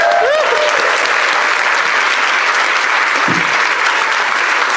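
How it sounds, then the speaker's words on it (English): An audience applauds at a public forum on prosecution topics, and the clapping stays loud, dense and steady for about five seconds with crowd noise mixed in. "And after that round of applause,"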